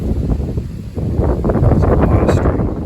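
Strong wind buffets a microphone outdoors on a riverbank during a fall mudlarking and metal detecting outing, a steady low roaring rumble that swells louder in the second half and continues without pause.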